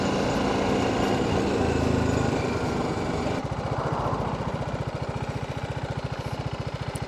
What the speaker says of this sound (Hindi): बाइक हमने डाल दिया क्रूज़ कंट्रोल पे।